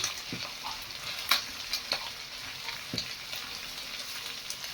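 Onion sizzles and fries in a pan, a steady crackling hiss with occasional sharper pops and light stirring scrapes, close and fairly quiet with no talking.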